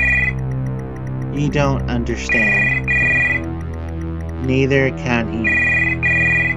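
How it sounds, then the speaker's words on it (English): A telephone rings repeatedly behind a door in the horror game The House Abandon, its bright electronic trills coming in bursts over a low droning ambience while a voice speaks throughout. "Behind the door, a phone starts to ring."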